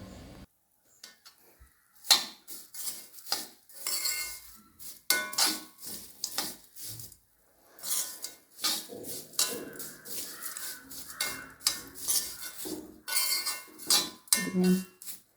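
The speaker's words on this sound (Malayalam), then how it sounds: "ഞാൻ പാകമാകുന്നത് വരെ ഇങ്ങനെ ഇളക്കി കൊടുക്കാം." Utensil scraped and clanking against a pan while jaggery is stirred in a home kitchen, a rapid series of near, moderately loud metallic clinks and scrapes with brief pauses, no talk.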